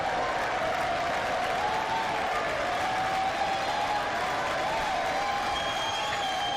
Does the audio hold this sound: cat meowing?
no